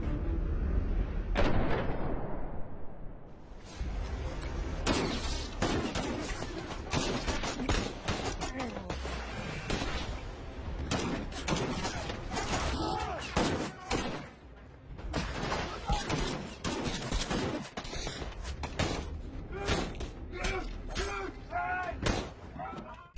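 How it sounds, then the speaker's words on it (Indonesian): Gunfire in an action-film shootout between militants and police or special forces: loud, dense bursts of sharp shots and heavy booms repeat over about twenty seconds, layered with other soundtrack sound. "Hingga akhirnya baku tembak pun terjadi."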